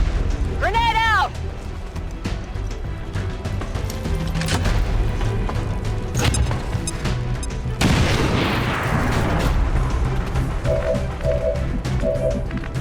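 A grenade blast in XCOM 2 during a haven assault, a loud booming explosion amid dense battle sounds and gunfire-like crashes, with game effects and music layered throughout.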